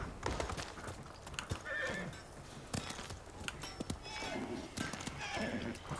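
In Ghost of Tsushima, a white horse whinnies and its hooves clip-clop along, with sharp clopping hits and neighs over a steady game ambience, with someone talking now and then.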